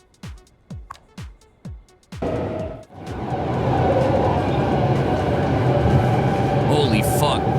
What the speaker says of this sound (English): I just realized there's a train that runs past these and I could probably upgrade it to have soundproofing.